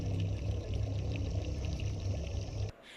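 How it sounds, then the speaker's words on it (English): Hands pushed into water during a ritual, a steady close pouring, sloshing wash of water that runs continuously and cuts off abruptly near the end, with no talking. "Put your hands in the water."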